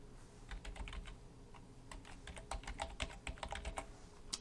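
A Gmail address is typed on a computer keyboard: a quick, irregular run of light key clicks, faint and close, with no voices.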